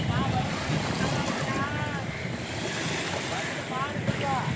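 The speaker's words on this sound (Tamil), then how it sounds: "கடல் அலை ரொம்ப மென்மையாக இருக்குது" Gentle sea waves lapping near fishing boats on a shore, a steady broadband wash of surf with wind noise on the microphone, faint voices in the background.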